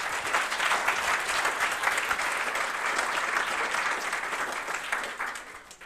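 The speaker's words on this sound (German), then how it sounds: "Applaus nochmal." An audience applauding at the closing presentations of a youth hackathon event, with sustained, dense clapping from a crowd that tapers off toward the end.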